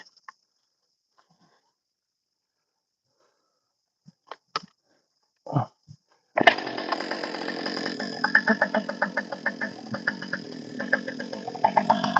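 A few quiet clicks and knocks, then a chainsaw roars to life and keeps running loudly, its revs rising and falling.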